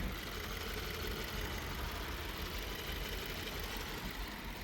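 A Subaru WRX with stock headers idles steadily up close, a dense, even engine rumble with no revving and no voices over it.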